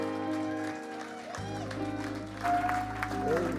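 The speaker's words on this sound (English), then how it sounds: "Please give me a round of applause to Pastor Poju Oyemade." A church congregation at the London Faith Seminar 2022 applauds to welcome Pastor Poju Oyemade, a steady crowd clapping mixed with sustained music tones that swell louder toward the end.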